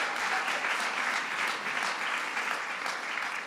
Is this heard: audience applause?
yes